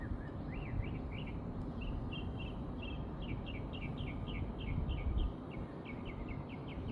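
Birds singing outdoors, repeating bright chirping phrases that continue steadily over a constant wash of broadband background noise, moderately faint and alone without any talk.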